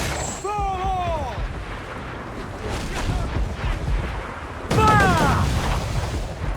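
In the video game Assassin's Creed 4 Black Flag, ship cannons fire as a loud, rumbling barrage that surges sharply near the end, while a crew voice shouts over the gunfire.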